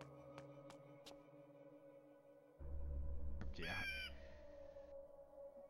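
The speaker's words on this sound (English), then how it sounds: "I think the owl one sounds very digitalized" A digitized owl from the game Legacy of Kain: Blood Omen 2 gives a short, warbling, artificial-sounding hoot over layered game ambience and tones, with a person murmuring briefly.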